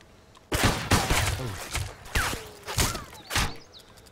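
Gunfire from the survival video game DayZ, several sharp loud shots in an uneven cluster, close and punchy, with no talk over them.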